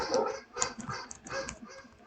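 Several dogs barking and whimpering indoors in the background, their short yips and barks coming in bursts at moderate distance.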